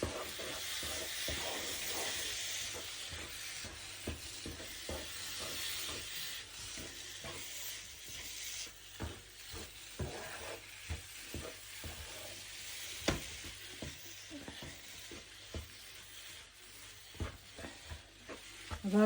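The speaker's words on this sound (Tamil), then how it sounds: "இப்போ அடுப்பை மீடியத்தில் வச்சுட்டு இந்த ரவையை நல்லா கிளறி விடுங்க." Semolina (rava) is stirred in hot water in a pan over a medium flame, with a hissing sizzle at first and then scattered scraping knocks of the spoon against the pan.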